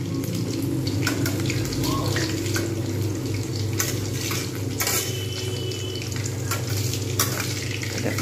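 Chicken pakora frying in hot oil in a home kitchen, a steady close sizzle running throughout with faint clinks and water-like bubbling, no talk over it.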